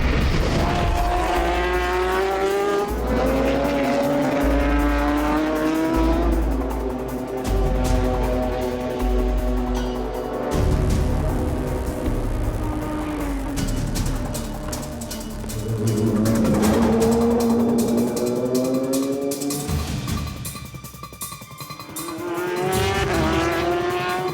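Racing motorcycles rolling through a formation lap in the FIM World Endurance Championship at Le Mans, engines droning and rising in pitch as they rev and pass, continuous and fairly loud.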